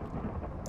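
Minecraft rain and thunder: a short stretch of dense, steady rain hiss with a low rumbling undertone, moderately quiet and with no voices.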